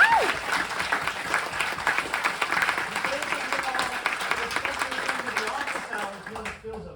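Sustained applause and clapping from a martial arts academy audience at a black belt promotion, dense and lively, with voices mixed in and fading toward the end.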